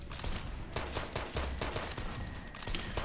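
Rapid shotgun blasts and turret fire in a Ninja Kiwi top-down zombie shooting game, a dense stream of sharp overlapping gunshots in quick irregular bursts, loud and close with no pauses.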